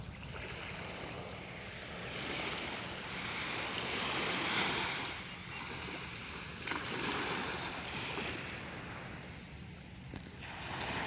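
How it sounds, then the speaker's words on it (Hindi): Sea waves break on a beach in a continuous surging roar that swells and recedes, with wind buffeting the microphone. "बहुत वड्डिया लहरां उठदियां पैन।"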